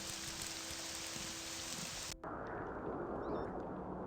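A blightstorm in Tamriel Rebuilt for the Morrowind video game, a dense, rain-like hiss and rushing roar that drops out abruptly and returns as a steady storm wash.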